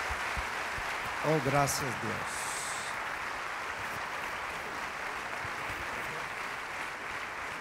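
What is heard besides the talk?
church congregation applauding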